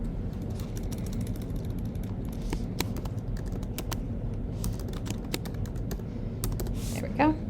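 Steady keyboard typing on a computer while building a website footer, continuous rapid clicking at close range throughout, with a brief faint squeak near the end.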